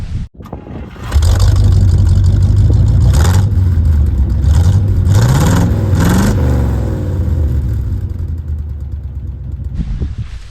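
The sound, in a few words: car engine running with dual exhaust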